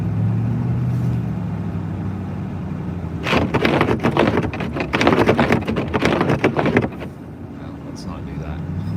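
A snow plow truck drives through a winter storm, its engine and road noise rumbling steadily while a burst of harsh scraping, wind-driven roar swells for several seconds and then fades back to a constant drone.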